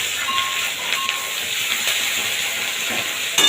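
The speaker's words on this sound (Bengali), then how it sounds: "হলুদ গুঁড়ো দিয়ে বেশ ভালোভাবে এটাকে কষাবো" Catla fish pieces sizzle in a pan with ginger paste, salt and turmeric, giving a steady close frying hiss with faint scraping, and no one talks.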